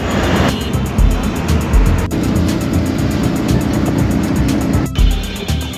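Ride on a bus through city traffic from Kawla near the new airport, with a constant loud engine rumble and road noise and a few sharp knocks, heard from inside the vehicle.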